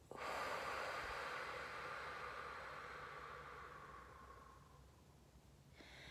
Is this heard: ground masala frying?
no